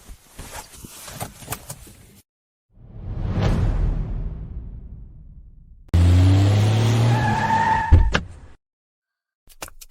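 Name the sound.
car braking and skidding to a stop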